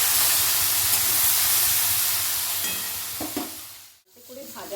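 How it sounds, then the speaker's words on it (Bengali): Small shrimp fry in hot mustard oil with a dense, close sizzle and spitting hiss, joined by stirring scrapes toward the end as the sizzle fades briefly, then returns. "এবারে যে চিংড়ি মাছটা রেখেছিলাম সেটা দিয়ে দিলাম। চিংড়ি মাছটা একটু ভেজে নিয়ে তুলে নিয়ে আসবো।"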